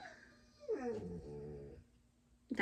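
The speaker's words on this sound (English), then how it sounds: "Sorry, you heard the puppy." A small dog growls low and steadily for about a second, then lets out a short, high whimpering yip near the end.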